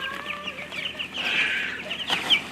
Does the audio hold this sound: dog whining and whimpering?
no